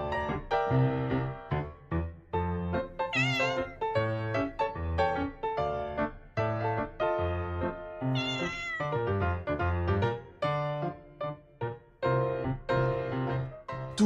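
A domestic cat meows repeatedly and loudly up close, a long run of drawn-out, complaining cries with short pauses between them.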